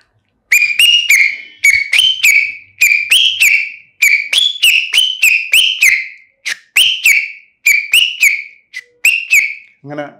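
Finger whistle imitating a vehicle reversing alarm, given as a mimicry performance: a loud, close series of short, sharp beeping whistles repeated in a steady rhythm, with no talking over them.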